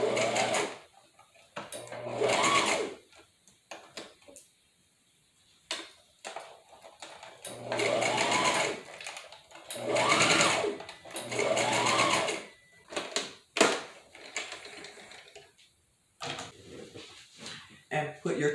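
A sewing machine stitches an afro curly hair topper unit in several short, loud whirring bursts separated by pauses, with fabric handling and small clicks in the gaps.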